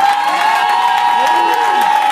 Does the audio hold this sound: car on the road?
no